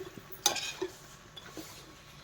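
A spoon stirs vinegar into a sweet-and-sour pickle in a pan, making a few soft scrapes and a brief clink in an otherwise quiet kitchen.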